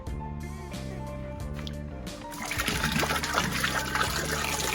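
Goat milk poured into a lye solution while making a large batch of amber and oakmoss soap, a soft trickling, splashing liquid sound that starts midway and continues, with a low hum and tonal background underneath.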